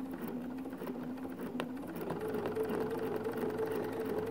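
Sewing machine running at a steady speed, stitching fabric along a ruler on a ruler quilt block, a continuous close mechanical whir with a brief click partway through.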